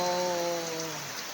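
Dense, steady rain hisses continuously, joined by a faint sustained tonal hum that fades slightly toward the end.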